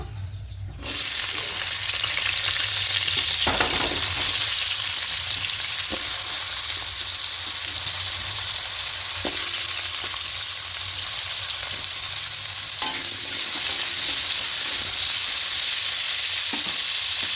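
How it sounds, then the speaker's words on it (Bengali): Cut potatoes fry in hot oil for a cauliflower-and-potato roast, a steady loud sizzle throughout with a few sharp stirring scrapes. "এবার এখানে কেটে রাখা আলুগুলো দিয়ে দেব"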